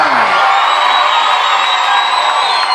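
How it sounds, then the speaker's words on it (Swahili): A church congregation at a revival seminar cheers and shouts for Jesus, a loud, continuous wash of crowd noise with whoops and a shrill whistle-like tone throughout. "Hebu nisikie shangwe kwa Yesu aliye."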